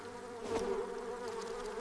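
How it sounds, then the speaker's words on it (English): Flies buzzing in a swarm over a piece of bread, a steady droning hum with a slight swell in the middle, heard close and without any voices. "hungry flies, drawn by the sweet aroma, soon swarmed upon his precious meal"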